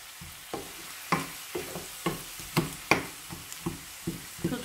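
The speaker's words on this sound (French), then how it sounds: "je vais remuer pour que surtout l'oignon ne brûle pas" Onion and spinach fry in a pan while a utensil stirs them, giving a steady soft sizzle under a series of regular scraping knocks, close and fairly quiet, with no talking.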